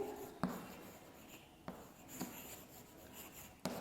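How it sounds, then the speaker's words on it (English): A teacher writes an example on a classroom board, with faint scratching and rubbing strokes broken by a few sharp taps as the marker or chalk touches down. "I am going to write one example."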